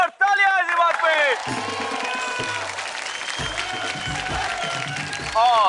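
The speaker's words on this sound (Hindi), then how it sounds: "जोरदार तालियां इस बात पे।" A studio audience at a Hindi TV show claps loudly and continuously, with a voice speaking at the start and end over the applause.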